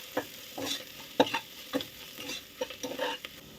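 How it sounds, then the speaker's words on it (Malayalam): Fried onions with a spoon of Kashmiri chilli are stirred in a pan for a mushroom biryani, giving a scatter of scraping spatula strokes over a soft, steady sizzle, close and alone. "അതിനുശേഷം നല്ലപോലെ ഒന്ന് ഇളക്കി കൊടുക്കുക."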